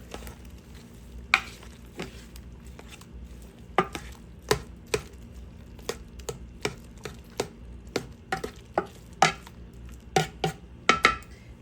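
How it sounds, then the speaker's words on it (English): Spoon scraping and knocking inside a crockpot while buffalo chicken chili seasoned with hot sauce and pepper is stirred, giving a run of irregular light clacks that grow busier toward the end. "I'm just going to give that a stir."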